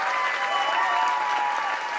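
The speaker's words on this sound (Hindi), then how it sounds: "जोरदार तालियां, अभी तक की सबसे जोरदार तालियां" Loud, steady applause fills a hall as an audience, many of them women, claps together, an unbroken dense wash of hands with no voices over it.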